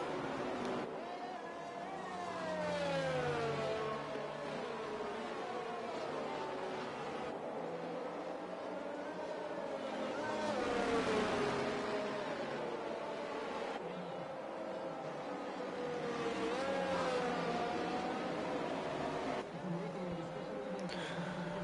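Racing-game cars run in a pack behind the safety car at a Japan round of an online league. Their engine tones rise and fall steadily under a commentator's continuous speech.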